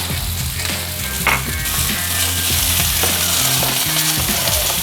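Peas sizzle hard in hot olive oil in a cast iron pan, a loud, steady close frying hiss with a brief stir or scrape partway through and no talking.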